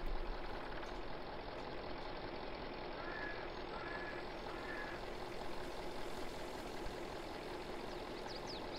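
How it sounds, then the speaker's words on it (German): A log truck's engine idles with a steady low rumble while logs are loaded in Farming Simulator 22, continuous and unchanging. "Mach mal hier den LKW voll."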